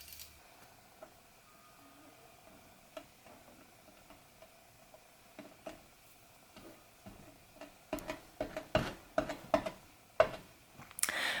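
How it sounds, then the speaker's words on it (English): Knife chopping brown polymer clay into fine slivers on a work surface, sparse faint taps at first, then a run of sharper, closer chops growing louder toward the end. "I'm gonna chop it up as fine as I can get it"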